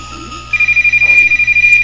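Telephone ringing in a horror video game: a rapid, loud electronic trill pulsing at a steady fast rhythm, close and continuous over a low droning background, no speech.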